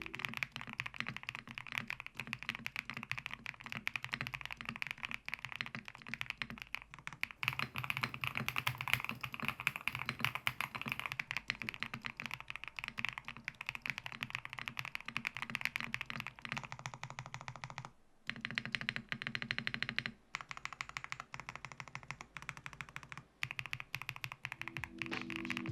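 Steady continuous typing on a Kick 75 mechanical keyboard in a high-profile build, dense poppy keystrokes at close range with brief pauses near the end, no talking.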